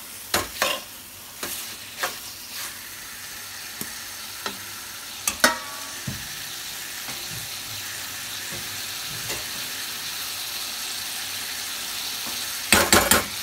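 Pota kaleji, chicken offal, frying on a high flame in a village kitchen, a continuous sizzle under sharp scrapes and clanks of a spoon against the pan, stirred in bursts with a loud cluster of strokes at the end.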